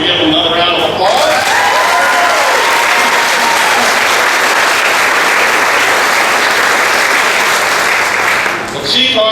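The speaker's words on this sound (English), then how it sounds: "could we give them another round of applause?" Loud, sustained applause from a large audience, steady clapping throughout with a few cheers at the start, fading slightly at the very end.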